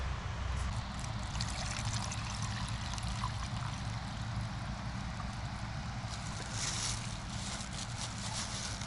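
Rainwater pours and trickles into a mug at a tent, a steady hissing, splashy stream of water heard close up, with a dense wash of noise that stays even throughout.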